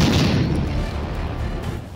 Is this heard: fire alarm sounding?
no